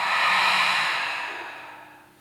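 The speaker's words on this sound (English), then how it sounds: "Exhale through the mouth." A single long, loud breath exhaled through the mouth during a vinyasa yoga class, close and alone, gradually fading away.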